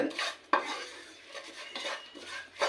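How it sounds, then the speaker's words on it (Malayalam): A utensil scrapes and clinks against a non-stick pan while fish curry masala is stirred, with repeated sharp scrapes and taps in an uneven rhythm, close and fairly loud. "ഒരു മിനിറ്റ് നമ്മളിങ്ങനെ ഇളക്കിക്കൊണ്ടിരിക്കണം"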